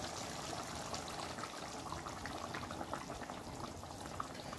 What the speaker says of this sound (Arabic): توا باش نمرق بالماء